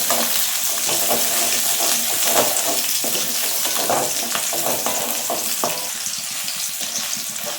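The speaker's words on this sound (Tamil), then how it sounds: "வெங்காயத்தை எடுத்து ஒரு 100 கிராம் வெங்காயம் வரும், அதை சேர்த்து நம்ம வதக்கி எடுத்துக்கிடலாம்." About 100 grams of onion sautéing in a pan for a sundakkai kuzhambu, giving a loud, continuous close sizzle broken by brief stirring scrapes, with no talk.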